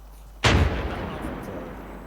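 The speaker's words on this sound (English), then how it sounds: "That was the artillery." A single heavy artillery blast in the Arma 3 video game, a sudden loud boom followed by a long, rumbling decay.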